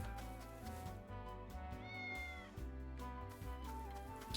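A cat meows repeatedly in the Triangle Strategy video game, drawn-out mews layered over steady orchestral game music, close and clear.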